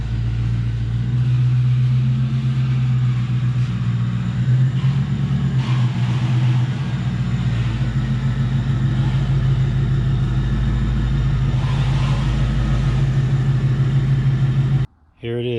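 1999 Ford Mustang GT engine running in a steady, loud, low rumble for most of the stretch, cutting off abruptly near the end.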